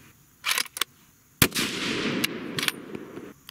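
Sig Cross rifle in .308 Winchester firing handloads outdoors: a sharp loud shot cracks midway, followed by a long rolling echo, with a few other brief bursts of noise before and after.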